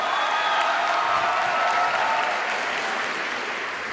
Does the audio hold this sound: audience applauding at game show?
yes